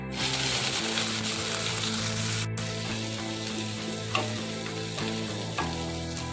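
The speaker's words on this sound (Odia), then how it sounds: "ପିଆଜକୁ ଆମେ ଭଲ ଭାବରେ ଗୋଲ୍ଡେନ୍ ବ୍ରାଉନ୍ କଲର୍ ହେବା ପର୍ଯ୍ୟନ୍ତ ଆମେ ଭାଜି ନେବା" Onions with panch phoron fry in hot mustard oil in a pan for a mula saag dish: a steady, close sizzle with occasional stirring scrapes and light clinks.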